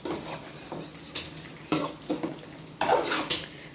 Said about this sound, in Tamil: போட்டு நல்லா கிளறி விட்டுடலாம்